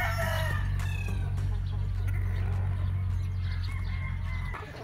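A yellow-legged Sweater Gilmore gamefowl rooster, seven months old, crows at a game farm, one loud drawn-out crow at the start followed by fainter crows and clucks from other birds over a steady low background hum.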